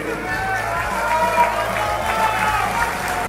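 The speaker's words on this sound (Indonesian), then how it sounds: "Tegas Prabowo disambut riuh tepuk tangan dari anggota DPR MPR DPD yang memenuhi ruangan sidang tahunan" Members of Indonesia's DPR, MPR and DPD fill a parliamentary annual session hall with loud applause for President Prabowo, a dense, steady roar of clapping and crowd noise that continues at high level throughout.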